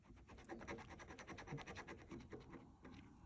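A coin or fingernail scratching the latex off an Illinois Lottery Big Blizzard Blowout scratch ticket, close and quiet, a rapid run of gritty scraping strokes with no voice over it.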